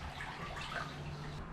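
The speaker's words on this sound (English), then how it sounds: "Still draining fast, still got a good whirlpool going on." Water swirling down the drain of a shower tray in a camper van shower used as a small bathtub, a steady close hiss and gurgle of draining water that carries on without a break.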